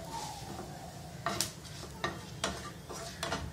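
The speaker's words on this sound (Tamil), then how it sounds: "மிளகாத்தூள் லாஸ்ட்டாக மொத்தமாக போட்டு அந்த எண்ணெயிலே கொஞ்சம் நேரம் வதக்குங்க" Pepper, cumin, coriander and chilli powders sautéing in oil for an aubergine stir-fry, giving a faint steady sizzle broken by several sharp scraping strokes of a spoon stirring the pan.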